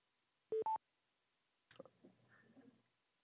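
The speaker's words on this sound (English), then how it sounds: "I did hear a beep on the phone." Two short, clear electronic beeps of a phone conference call join in quick succession, followed by faint muffled shuffling and low indistinct sounds, in an otherwise quiet room.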